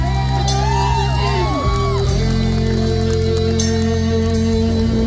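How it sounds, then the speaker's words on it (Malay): Audience at a live metal concert, cheering and whooping loudly and continuously throughout with shouts rising from the crowd; a held musical tone runs underneath. "tepuk tangan sikit untuk kami di atas pentas ni"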